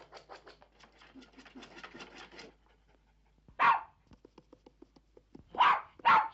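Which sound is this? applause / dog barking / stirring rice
dog barking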